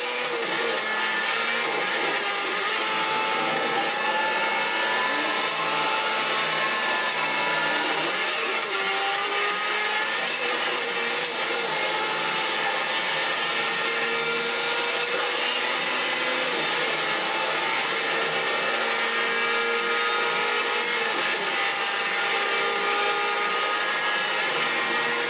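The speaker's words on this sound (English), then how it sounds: "Now I'll start the gaming review with Asphalt 8." Asphalt 8 racing game audio plays on a Xiaomi Mi A1 phone as a continuous whining engine drone that rises and falls in pitch over a steady layer of game effects, with no talking.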